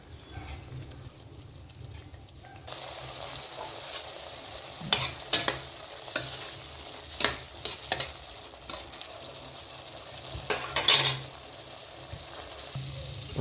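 Garlic goes into hot oil with tomato for a traditional fish curry, frying in a pan with a steady close sizzle and repeated scraping stirs of a spoon, without speech.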